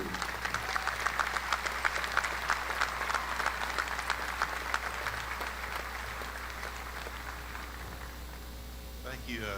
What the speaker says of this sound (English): Join me in giving him a round of applause as he steps towards the podium